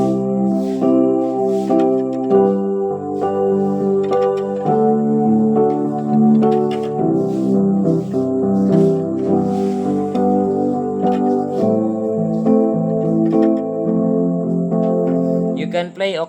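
Piano chords played in octaves, sustained harmonic chords changing every second or so, full and loud, with a few struck notes near the end and no speech over them.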